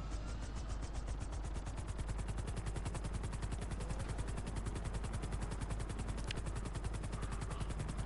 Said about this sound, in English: take the helicopter for a spin